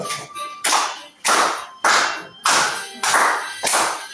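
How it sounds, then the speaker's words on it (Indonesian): Rhythmic handclapping by a group of children in a classroom in six sharp bursts, each a quick flurry of many hands, evenly spaced with brief pauses between. "Sambil tepuk tangan ya"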